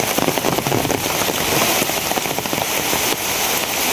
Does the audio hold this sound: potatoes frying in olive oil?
no